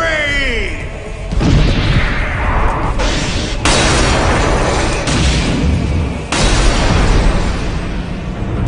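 Obelisk's Fist of Fury attack from the Yu-Gi-Oh! The Dark Side of Dimensions movie, a loud run of booming impacts and explosive bursts after a rising whoosh, mixed with dramatic score.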